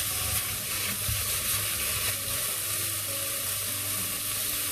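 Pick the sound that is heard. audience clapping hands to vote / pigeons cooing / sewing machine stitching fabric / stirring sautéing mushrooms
stirring sautéing mushrooms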